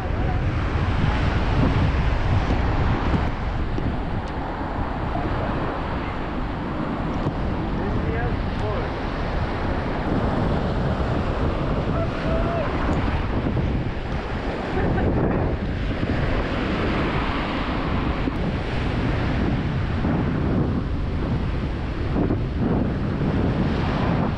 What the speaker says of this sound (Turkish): felaket bir rüzgar var burada arkadaşlar